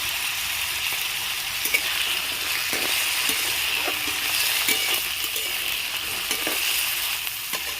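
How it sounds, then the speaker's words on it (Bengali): Potatoes fry and sizzle in a pan with green chillies, a steady close crackling hiss with occasional stirring clinks of a utensil against the pan. "আলুগুলো একটু লাল করে ভেজে নেব"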